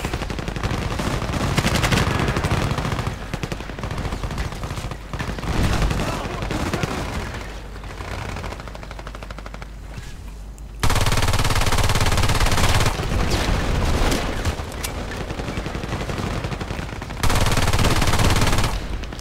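Gunfire in the shooter game Battlefield Play4Free: dense, continuous automatic bursts with loud, sharp shots throughout, swelling in intensity at times, a player talking faintly underneath.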